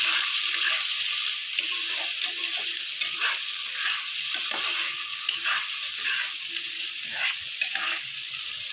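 A spice paste sizzles and fries in a pan while it is stirred for a Bengali vegetarian dhokar dalna curry, a steady loud hiss with scraping stirring strokes repeating every second or so, close and without talk.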